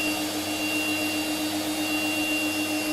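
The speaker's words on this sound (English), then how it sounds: "There should be a bunch of trash in the vacuum cleaner." A vacuum cleaner runs with a steady, close whooshing roar and a constant motor whine, unbroken for the whole stretch with no voices.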